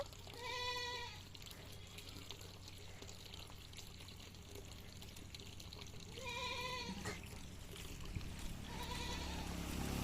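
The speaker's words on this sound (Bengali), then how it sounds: "আর ছাগলগুলো পথে দাঁড়িয়ে রেখেছে" Goats bleat in three separate calls, near and clear, over a steady background of running water and outdoor ambience in a rural setting.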